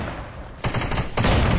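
Gunfire in Fortnite rings out in two quick bursts that follow a quieter moment. The shots are close, loud and sharp.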